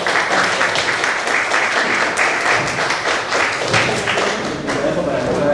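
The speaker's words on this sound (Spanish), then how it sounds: "recibamos un fuerte aplauso al doctor Luis Alonso García Muñoz Nájera" A convention hall audience gives a speaker a sustained round of applause, dense and loud throughout, with steady crowd clapping and no break for the full length.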